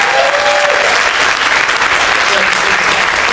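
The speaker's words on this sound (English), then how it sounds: "How about another round of applause for Judith?" A crowd at an evening political speaking event gives loud, sustained applause, a thick wash of many hands clapping at once with a faint voice rising briefly over it.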